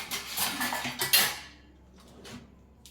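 Bel pulp for bel panna is strained through a sieve into a bowl, with a run of clinking, scraping metal-on-bowl knocks for over a second, then quiet with faint light taps.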